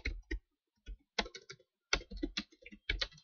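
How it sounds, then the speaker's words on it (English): Typing on a computer keyboard in short clustered bursts of crisp close keystrokes separated by brief pauses, in an otherwise quiet room. "We're going to type in what we want first."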